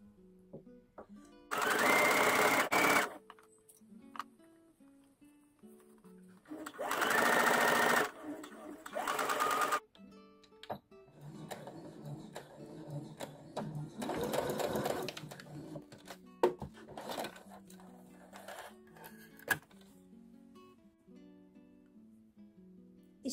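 Sewing machine stitching a seam along the folded edge of an infinity scarf, running in bursts of steady whirring separated by pauses, with a person talking quietly between and under the runs.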